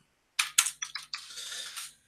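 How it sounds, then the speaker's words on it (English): Typing on a computer keyboard during a webinar: a few sharp, separate key clicks followed by a faster run of keystrokes blurring into a steady clatter, close and fairly quiet, with no talking. "I appreciate you can't see what I'm typing."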